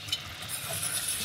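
A spoon stirring a butter and flour roux in a pot for vegan vegetable lasagna with spinach: a soft, close, steady scraping and gentle sizzle, brief and continuous.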